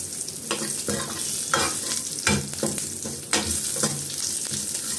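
Green chilies sizzle and crackle loudly in hot oil while a utensil stirs and scrapes through them in repeated strokes, close by, while drumstick rasam is made.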